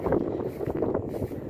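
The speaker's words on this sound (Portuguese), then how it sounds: "Eita vento danado." Strong wind buffets the microphone outdoors near harvested corn fields on a hot summer day, a loud steady rumble with gusty swells throughout, no talk.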